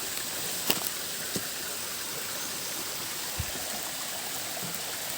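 A mountain stream flows steadily in a forested mountain setting, a continuous broadband rush of water with a few brief knocks and splashes, no talk.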